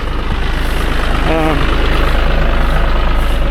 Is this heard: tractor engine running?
yes